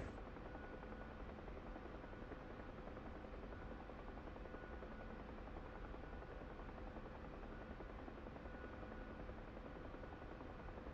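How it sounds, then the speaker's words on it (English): A Bell UH-1H Huey helicopter flies in the combat flight game DCS World on an air ambulance mission, its rotor and turbine giving a steady, dense, unbroken drone throughout. "Helicopters are fun."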